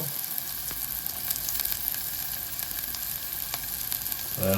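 Onions fry in hot oil for an aubergine curry, a close, continuous crackling sizzle with faint stirring clicks throughout, with no one speaking.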